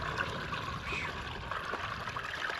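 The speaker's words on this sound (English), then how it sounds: "Black tank's going. It is flowing." Waste water gushes steadily from an RV black tank into a newly installed septic system at an off-grid desert homestead, a continuous close trickling and splashing flow with no talk.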